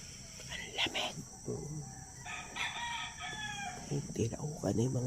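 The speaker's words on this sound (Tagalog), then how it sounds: "Tinaukan na yung mga manok." A rooster crows nearby amid other clucking chickens at a lakeside campsite before sunrise, with a steady background hiss and a few soft human sounds mixed in.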